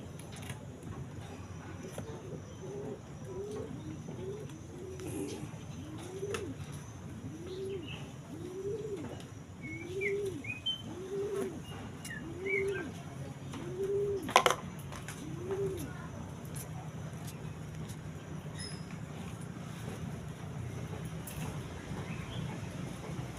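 Pet birds coo in a low, rhythmic run of about ten soft notes at an even pace. They carry over a faint background hum, with brief higher chirps scattered around them and a sharp click partway through.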